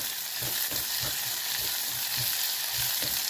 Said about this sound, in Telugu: ఉల్లిపాయలు సగం వేగాయండి.